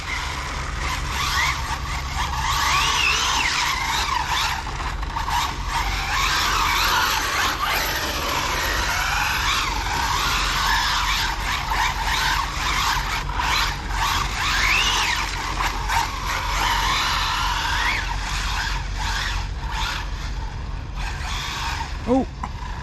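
An HPI Maverick QuantumR Flux RC car drifts with loosened diffs and the gyro off, a busy whining motor and gritty tire scrubbing that rise and fall continuously, with a voice heard now and then.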